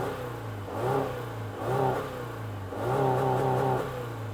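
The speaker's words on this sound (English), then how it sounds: "It doesn't sound very good. It's a bit rough, as boxer engine or flat engines typically are." Subaru Forester STI Sport with a rough-sounding boxer engine, revving up through a couple of gear pulls with rising pitch and a brief dip between, heard from inside the car, loud and alone.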